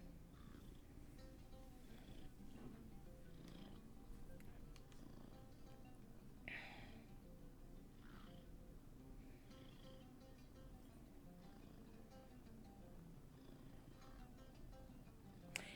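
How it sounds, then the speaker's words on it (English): A house cat purrs steadily at close range, a soft continuous low rumble with faint rhythmic pulsing and a few small higher chirps or sniffs over it. "He has a purr. Cat has a purr."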